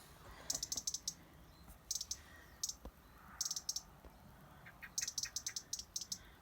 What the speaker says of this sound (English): I think we've got a blackbird or something trundling away up the top